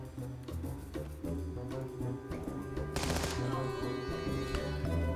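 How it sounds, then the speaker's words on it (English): Rapid bursts of gunfire aimed at gang member assaulters in the tactical game Antisquad, dense repeated shots layered over steady music, with a louder volley around the middle, no talking. "Go ahead and open fire on these gang member assaulters."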